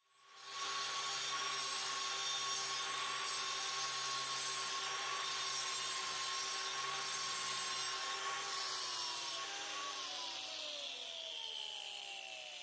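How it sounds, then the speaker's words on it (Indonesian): A concrete grinder fitted with a diamond metal plate cuts continuously with a loud, harsh, steady whine for about ten seconds, then the pitch drops as the disc spins down near the end. "Kita gunakan gerinda beton ya, dengan diamond metal plate-nya."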